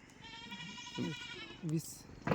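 Kathiawadi goats bleat a few times nearby, wavering cries over a soft background hum, with a brief muffled voice between them.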